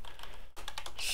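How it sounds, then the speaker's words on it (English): A few quick key presses on a computer keyboard, a Control plus F3 shortcut typed while editing code, sounding as close, crisp clicks with no talk. "I'm hitting Control F3 once I double click it."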